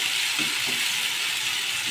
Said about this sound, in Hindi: उसके बाद लहसुन, प्याज, मिर्ची, तो गोल्डन फ्राई होने तक पकाते हैं।